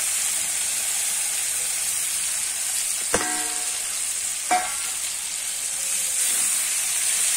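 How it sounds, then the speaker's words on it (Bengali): Steady sizzling of yardlong beans, fried earlier, as they go into a pan of browning potatoes. It holds as a constant hiss with two sharp metallic clinks from a utensil against the pan, and no voice. "এবারে ভেজে রাখা বরবটিটা আমি দিয়ে দেব"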